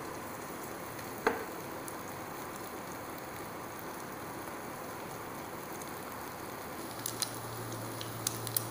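An egg with alfalfa fries in a pan with a steady, soft sizzle throughout, broken by a few light ticks and pops.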